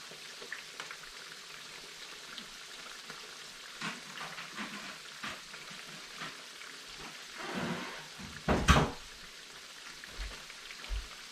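Fish frying in oil in a pan for a Ghanaian rice and stew dish, a steady soft sizzle throughout with a louder crackling burst near the end, fairly quiet overall and with no talking.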